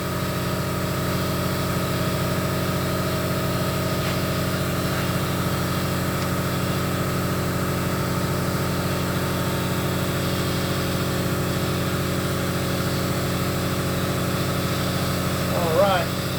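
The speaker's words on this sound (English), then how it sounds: "I had to go shut off the compressor because I'm shooting a video and it's too loud." Air compressor running in a workshop during a mini truck oil change, a steady loud mechanical hum with a constant pitch throughout, unchanging from start to end.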